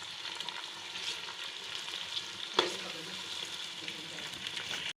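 Beef pieces frying with onions in a pot hiss in a steady sizzle and are stirred, with one sharp scrape of a utensil halfway through, and no talking.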